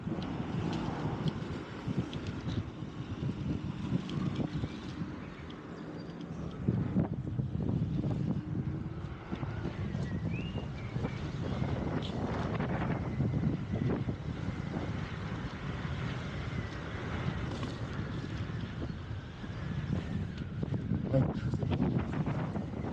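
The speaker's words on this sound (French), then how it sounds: "Ah, il y a un peu de vent." Low rumbling wind buffeting the microphone throughout while riding an electric scooter through small villages, gusting unevenly, with voices and outdoor background noise mixed in.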